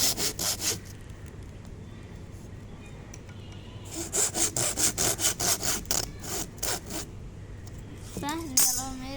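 Steady back-and-forth sawing through material for a homemade kazoo, a run of evenly spaced rasping strokes close by, preceded by quieter handling and ending with a brief squeaky scrape.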